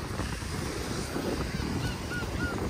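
Duck-like seabirds honking on the water by the sea, a few hoarse calls over steady wind and surf noise.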